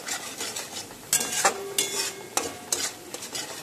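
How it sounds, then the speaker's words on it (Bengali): Spiced masala for a Bengali prawn and pointed gourd curry stirred and fried in a pan, a soft sizzle broken by several sharp spoon scrapes against the metal. "মশলাটা খুব ভালো করে কষিয়ে নিতে হবে"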